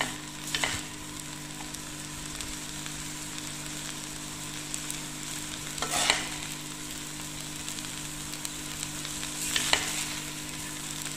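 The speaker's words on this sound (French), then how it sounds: "vous entendez ce bruit, ça c'est l'huile que quand j'ai sauté, j'ai mis 2 cuillères de l'huile" Oil sizzling in a pan as tuna samosa filling is sautéed, a steady crackling fry throughout with a few louder bursts from stirring.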